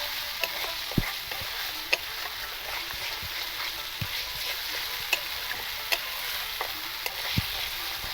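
Ground spices for Kashmiri aloo dum are stirred in a pan, a steady sizzle under repeated scraping clicks of the spoon at regular intervals, close and moderately quiet with no talking.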